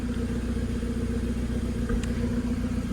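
A Volkswagen GTI with an aftermarket exhaust idles steadily, a low, growling rumble with a constant throbbing hum close by, with no voices.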